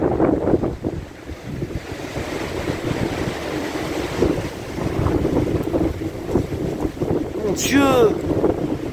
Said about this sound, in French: Oh, les gars, les rafales qu'il y a, ça fait peur.